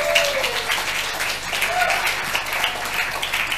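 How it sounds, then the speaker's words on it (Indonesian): A church congregation at a preaching session applauds, a steady moderate wash of clapping with some voices mixed in. "Berikan tepuk tangan buat dia."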